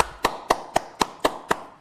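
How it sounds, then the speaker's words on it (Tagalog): Seven evenly spaced sharp hand claps ring out in steady rhythm, close and clear, with no voices over them. "Palakpakan! Pamalakpak kayo"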